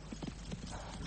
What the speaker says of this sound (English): Rein in that horse!